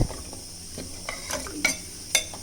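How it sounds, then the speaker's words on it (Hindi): A utensil stirs through trotter curry in a metal pressure cooker, with a few scraping clinks against the metal over a faint background hiss. "अब एक बार थोड़ा सा हिला दिए, मिक्स कर दिए"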